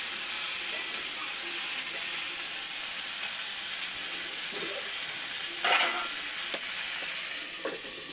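Vegetables with turmeric frying and being stirred in a home pan, a steady sizzling hiss throughout with a brief louder scrape or clatter near the end.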